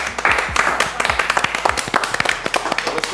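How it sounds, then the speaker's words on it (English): Judges on a Caribbean chicken tikka masala cooking show clap in a short burst of applause, with quick sharp claps close by, uneven and slightly scattered over a faint murmur. "round of applause"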